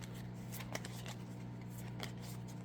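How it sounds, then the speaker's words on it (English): A deck of cards for the Hercules and the 12 Labors board game is shuffled by hand, with a few quick riffling bursts and soft papery flicks over steady quiet room noise. "My shuffling skills are not the greatest."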